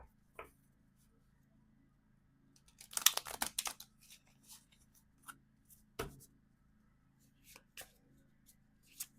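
Tarot cards are riffled and shuffled up close: a quick flurry of crisp flutters in the middle, then scattered single snaps and taps with long quiet gaps.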